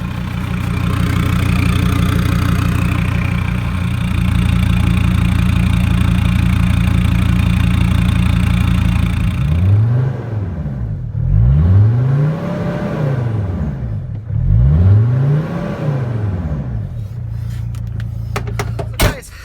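A Mercedes Sprinter van with its muffler cut off idles loudly and roughly up close, then is revved several times in rising and falling surges before settling back to idle.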